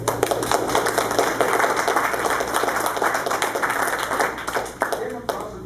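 Audience at a Linux user group meeting about 3D printing gives steady, dense clapping that runs close and continuous for several seconds before thinning into a few final claps.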